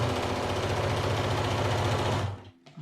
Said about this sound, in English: place them under my machine, and then sew on the line.